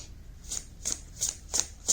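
Tarot cards shuffled by hand in a steady rhythm, five quick papery riffles about a third of a second apart, close and fairly quiet over a low background hum, with no voices.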